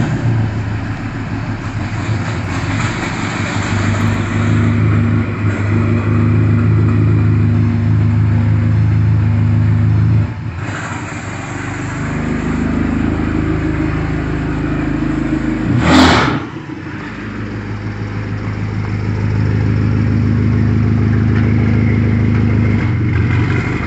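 Modified BMW SUV rolls up to a drag racing track. A loud, close engine drones and rumbles steadily, with a brief drop in revs and a sharp surge midway.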